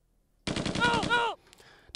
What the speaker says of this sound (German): Das ist schön mit dem Maschinengewehr